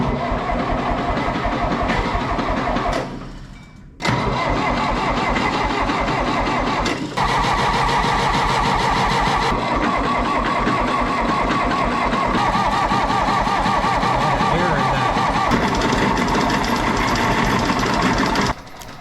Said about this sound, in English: So let's get some oil in this thing and fire it up.